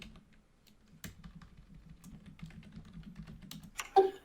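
Password being typed on a computer keyboard: a run of quick, light key clicks at close range with an uneven rhythm, ending in a louder burst of keystrokes and no talking.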